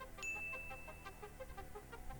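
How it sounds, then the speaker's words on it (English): A notification bell sound effect gives a short bright ding with a sustained shimmering tone, soft and set over quiet background music, with no talking. "ring that bell so you never miss a video again"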